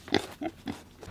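Three short grunts from a pig at an off-grid homestead, near and fairly clear, spaced evenly apart with no talk.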